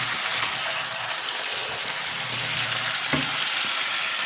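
Chicken pieces fry in a pan with a dense, even sizzle close up, and a single soft knock from a utensil partway through.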